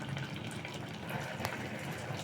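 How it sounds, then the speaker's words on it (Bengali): A pot of watermelon rind mixture simmers gently on low heat for an oil-free recipe, giving a soft, steady bubbling hiss that stays faint and even throughout. "হ্যাঁ, আপনারা দেখতেই পাচ্ছেন এটা বেশ ফুটছে"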